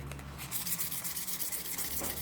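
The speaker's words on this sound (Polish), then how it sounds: "Bierzemy papier ścierny." Sandpaper rubs against a copper pipe in a steady, close, scratchy back-and-forth, with a continuous abrasive hiss throughout.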